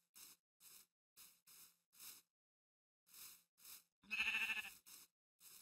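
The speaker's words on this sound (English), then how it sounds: "Hey, sheep." Blocky Minecraft sheep bleat in a string of about ten short, evenly shaped calls spaced through the stretch, with one louder, longer bleat near the end and silence between the calls.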